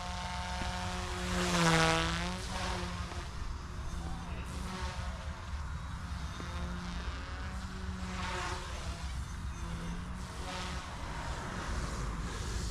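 Steady high-pitched whirring of a small RC helicopter's brushless motor and rotor, a Goosky S1, continuous and close, briefly rising in pitch before settling.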